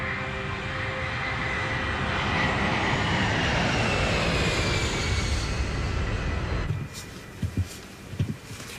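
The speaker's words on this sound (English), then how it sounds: "I can see the other planes are taking off." Jet airliners taking off at an airport, a loud sustained roar of engines building and sweeping past, then cutting away to a quieter interior with a few soft knocks.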